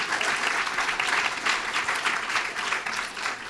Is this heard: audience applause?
yes